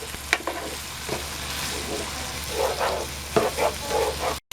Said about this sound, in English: you're going to want to pretty much stir this for the next couple of minutes